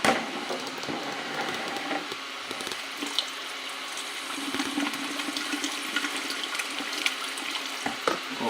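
Liquid pours steadily into a mixing vessel while a wash is being made, a continuous watery splashing that runs throughout with a few faint knocks.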